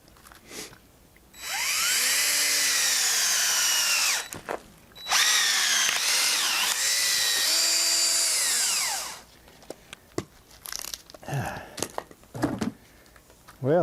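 A cone splitter driven by a power drill bores into a white oak log with small knots, whining loudly in two long sustained bursts, pitch sagging and rising under load, followed by cracking and knocking as the wood gives.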